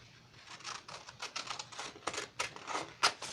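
Scissors snip through fabric while cutting out a heart shape, giving a close run of quick, crisp, irregular cuts with no voices.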